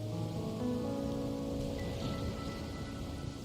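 Steady rain falls in the video game Wuthering Waves, a continuous wash of patter heard beneath sustained musical tones with no voices.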